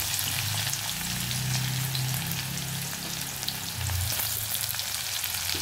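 Garlic, chili and onion, with curry leaves, fry in a pan for a Marathi besan vada curry, giving a steady close hiss of sizzling oil over a low background hum, with no talking.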